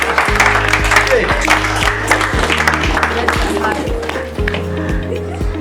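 Audience clapping and cheering at a talk, loud and close, mixed with steady rhythmic low thumping music underneath throughout.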